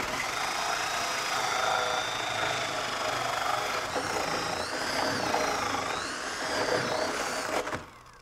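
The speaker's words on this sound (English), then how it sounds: "We're going to start right here and drill right through." A power drill runs continuously for several seconds, its whine shifting in pitch as it bores through a soffit, then stops abruptly.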